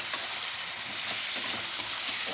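A pan fries steadily with cumin and chili powder just added, giving a dense, even sizzle that hisses close up without a break. There is no talking.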